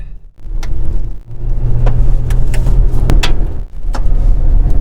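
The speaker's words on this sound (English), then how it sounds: "you can hear all kinds of rocks getting picked up and flung into the paint, truck, rocker panels, and underside" Rocks are flung against the underside, rocker panels and paint of a 2023 Toyota Tacoma TRD Off Road while driving, sharp scattered clacks and pings over a loud continuous engine and road rumble.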